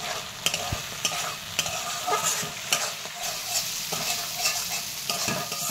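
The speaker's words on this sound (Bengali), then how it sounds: "খুব ভালো করে মশলাটা কষিয়ে নেব।" Spice paste masala for a raw banana kofta curry being stir-fried in a pan, a loud continuous sizzle punctuated by regular spatula scrapes and knocks, no voices.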